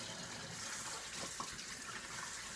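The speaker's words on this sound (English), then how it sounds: "Put that in the water, rinse it up, stick it in the bin." Water running and splashing as a freshly cleaned pheasant is rinsed, a steady, fairly loud wash of flowing water with small splashes and no voices.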